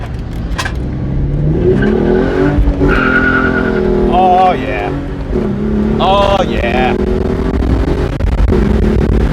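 A Hyundai Genesis Coupe engine with a manual transmission revs and climbs through the gears nearby, short of redline, rising and falling in pitch, while a person speaks briefly over it.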